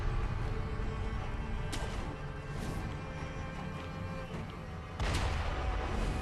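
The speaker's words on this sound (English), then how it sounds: "Someone is throwing bombs at me" Bomb explosions in Sekiro: Shadows Die Twice, a few muffled booms set in a constant low rumble, with a heavier blast near the end and no talk.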